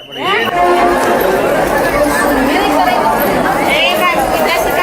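A large crowd at a temple in Lakhisarai, Bihar, chatters and murmurs loudly and continuously, many overlapping voices forming a dense, steady wash of talk with no pause.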